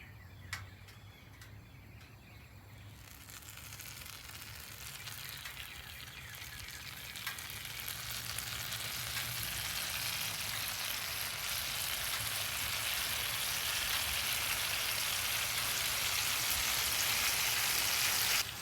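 Whiskey cinnamon pancakes with a brown sugar glaze sizzle on a griddle, a steady hissing fry that swells louder over the span, close by, with faint ticking and no talking.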